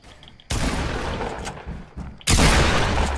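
Video game gunfire: a loud, sharp burst of several shots lands after a brief quiet lead-in, then a heavier, louder boom of a critical hit follows near the end, all close and dense with no talking.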